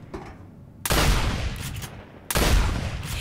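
Gunfire in the video game Turning Point: Fall of Liberty, two loud sharp bursts of shots, each with a decaying echo, separated by a quieter gap with no talking.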